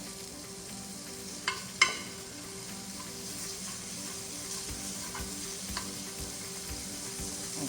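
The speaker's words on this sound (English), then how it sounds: "my pot already warmed up. What I'm going to do now, I'm going to add" Butter sizzles steadily in a warmed pot, a continuous soft frying hiss with a couple of sharp utensil clinks early on, close and moderately quiet with no talking.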